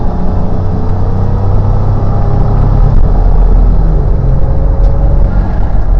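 A 1991 GMC Syclone engine pulls under half throttle in a loud, steady low rumble heard from inside the cab, droning continuously with road noise and no talk.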